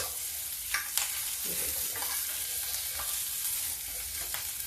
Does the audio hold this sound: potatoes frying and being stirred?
yes